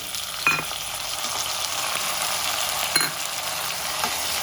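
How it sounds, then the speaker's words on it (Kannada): Tomatoes frying with salt in a pan, a continuous bright sizzle close by with a few faint stirring scrapes and taps now and then. "ಟೊಮೊಟೊ ಜೊತೆನೆ ಉಪ್ಪು ಕೂಡ ಸೇರಿಸಿ ಫ್ರೈ ಮಾಡ್ಕೊಳ್ತಾ ಇದ್ದೀನಿ"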